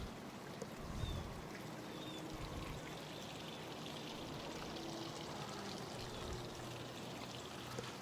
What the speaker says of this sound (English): You hear the background noise, the water?